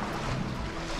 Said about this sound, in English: The sound of the ocean, the waves.